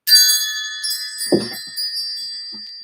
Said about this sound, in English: Let's call in spirit with a little bit of wind chime time.